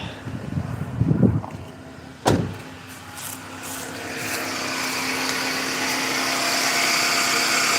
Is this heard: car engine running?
yes